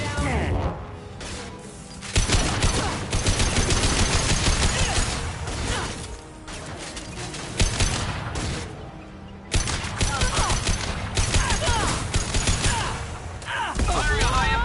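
Mass Effect 2 gunfire comes as repeated loud bursts of shots and heavy impacts, with brief lulls between volleys and voices talking in between.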